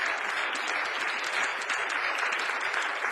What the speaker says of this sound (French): Oui, on peut les applaudir également.